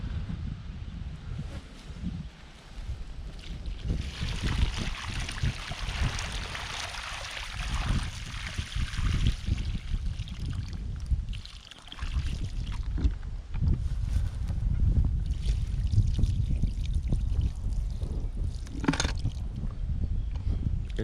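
Liquid and loose skull bones spill from a container onto a sheet. A long, splashy pour comes up close, with gurgling surges, rattling bits and a brief lull in the middle.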